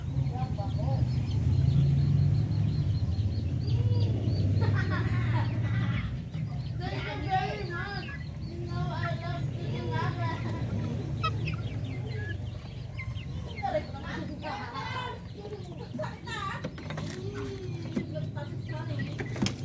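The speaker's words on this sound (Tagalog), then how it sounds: "Mga rooster na darag." Young Darag native chickens and three-month-old roosters cluck and call steadily in a farm yard, several birds close by, with someone talking over them and faint vehicle noise behind.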